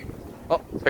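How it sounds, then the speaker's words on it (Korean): Brief honking calls of a swan by a river at a Saturday farmers market in Prague, two short nasal notes under low background noise. "백조."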